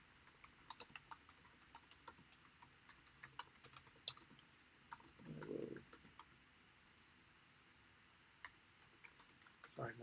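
Someone types on a laptop keyboard set at an awkward angle, producing sparse, quiet key clicks in irregular bursts with brief pauses, and a soft low thump partway through.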